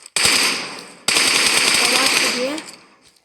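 Loud automatic gunfire from a shooter video game, PUBG, in two long sustained bursts, the first brief and the second running about two seconds before tapering off.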